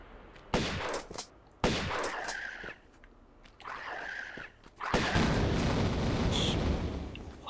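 Shotgun blasts in the 1996 Tomb Raider video game, three loud sharp booming shots spaced a second or two apart, the last followed by a sustained rumbling explosion-like roar.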